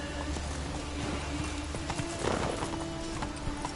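Roach, the horse in The Witcher 3: Wild Hunt, trots with a steady, rapid clip-clop of hooves over a constant background hum, with a faint snort partway through.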